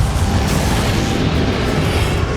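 A Confringo blasting spell explodes in Hogwarts Legacy during the fight with Ranrok, a loud, dense burst of rumbling roar that fills the whole moment with no voices.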